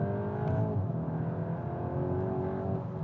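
A 2021 Golf GTI Clubsport makes a launch control start on damp pavement, its engine holding a loud steady drone with a slight rise in pitch as the tyres struggle for grip, continuous throughout.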